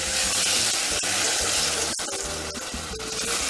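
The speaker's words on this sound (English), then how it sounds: "I'm going to pour in the sauce" Tomato sauce from an 8-ounce can pours into a pan with a steady, close liquid gurgle and splatter, punctuated by a few soft thuds and clicks.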